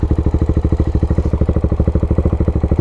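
A big single-cylinder motorcycle engine thumps close by in a fast, steady pulse of loud, chugging beats as the bike is ridden, with a mechanical clatter riding on top.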